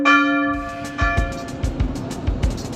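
Church bells in Gdansk ring out at noon: a sustained bell tone fades and is followed by a series of bright repeated strikes in an uneven rhythm, moderately loud and with no talk over them.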